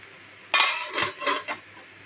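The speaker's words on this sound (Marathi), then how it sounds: "आता आपण साबुदाण्यावर झाकण ठेवून वाफवून घेऊ" A lid set down over a pan of sabudana for steaming, giving a sharp metallic clatter followed by a few lighter clinks and rattles as it settles, close and clear with no talking.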